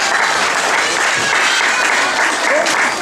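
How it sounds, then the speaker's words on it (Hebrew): Steady applause from a crowd at a parrot show, with dense, even clapping that runs the whole time under a faint voice. "בהחלט מגיעות למחיאות כפיים."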